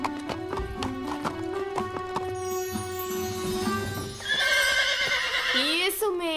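A cartoon horse neighs in a loud, wavering whinny over a quick clip-clop of hooves, with a bright rising squeal near the end, set against animated-show sound effects.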